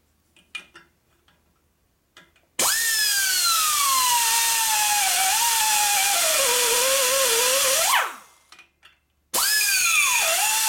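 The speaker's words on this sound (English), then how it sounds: "My grinder wants some oil." A grinder works on a 1958–1960 Harley-Davidson panhead cylinder head during repair, whining loudly and steadily for about five seconds with its pitch wavering under load, then spinning down and starting up again, with quiet clicks before it begins.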